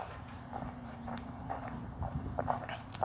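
A horse's hooves clop slowly and unevenly on hard ground, a few soft, close steps over a faint low hum, with no talking.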